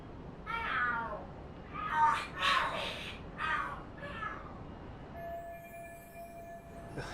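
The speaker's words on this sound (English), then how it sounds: "Are there cats fighting?" In the video game Lost Judgment, cats yowl and screech in a fight, several rising wails that come and go over a few seconds against a quiet background, then fade to a steady tone.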